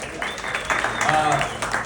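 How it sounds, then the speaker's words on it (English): Scattered applause from a comedy showcase audience for Monarch Market runs steadily beneath a voice speaking over the crowd. "Can we also clap it up for Monarch Market and their representatives?"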